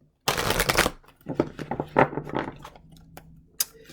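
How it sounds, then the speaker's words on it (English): A deck of cards is shuffled in a few quick riffles, crisp and close, with a burst of fluttering followed by softer, shorter riffles and taps. "I'm going to give you a few more shuffles."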